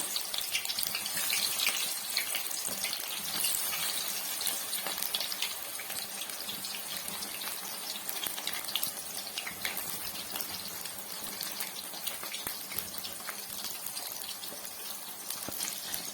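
Soya gobi manchurian pieces fry in hot oil, giving a dense, steady sizzle and crackle that holds at an even level for the whole stretch, with no voices over it.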